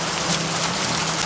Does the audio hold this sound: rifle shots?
no